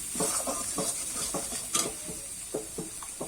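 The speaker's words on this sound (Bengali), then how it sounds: "ভালো করে মশলাটা কিন্তু কষিয়ে নেব" Spice powders are sautéed in a pan for dudh palak, a spinach-and-milk dish: rhythmic spatula scrapes and taps sit over a low sizzle, close by and without speech.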